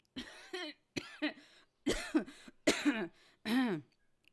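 A girl coughs several times, close and loud, in short bursts, about six in a row with brief pauses between them.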